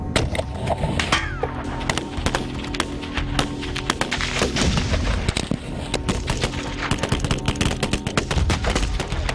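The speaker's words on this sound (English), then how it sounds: "you cannot hide behind an I-beam when there's a 50 cal present" Heavy .50 caliber machine gun fire in rapid, overlapping bursts, loud and close, with sharp cracks packed throughout over a steady low rumble and a faint tonal backdrop.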